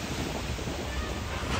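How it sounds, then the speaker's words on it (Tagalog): Strong, steady wind roars with a dense wash of rain during a storm in Dubai, loud and continuous throughout, with no voices. "Sa lakas ng ulan at hagupit ng hangin"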